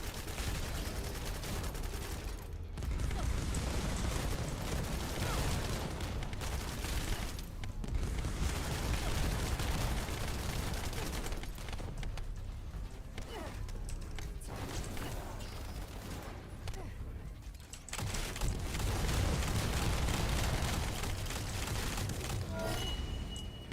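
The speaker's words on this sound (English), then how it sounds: "Lol, missile spam." Dense volleys of missile explosions and rapid gunfire in The First Descendant roar almost nonstop, loud and close, with only brief dips between bursts.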